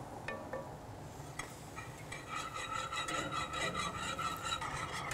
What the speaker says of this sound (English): It's important to keep it stirring and whisking the whole time.